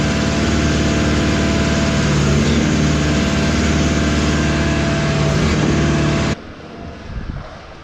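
A Schwing Putzmeister concrete pump's motor runs loud and steady with a deep, even drone, then cuts off abruptly, leaving quieter low rumbling and faint clatter.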